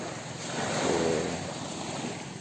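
Two engines on a fishing outrigger boat run steadily, giving a broad, continuous drone mixed with wind and water noise that swells slightly midway through.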